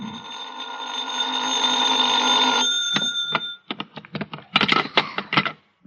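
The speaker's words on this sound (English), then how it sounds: "I was still in bed when the phone rang." An old-fashioned telephone bell rings loudly and continuously for about three seconds, then breaks into a series of short, sharp rings in an uneven rhythm, close by with no talk over it.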